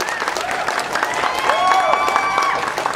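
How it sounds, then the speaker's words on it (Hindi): Applause welcomes a guest onto the stage at a movie motion poster launch event. Sustained crowd clapping fills the whole span at steady strength, with a voice talking over it. "जोरदार तालियों से आजाद का स्वागत कीजिए"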